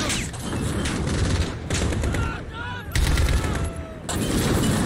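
Rapid bursts of automatic gunfire in Modern Warfare (2019), loud and continuous with brief pauses, layered over busy battle noise.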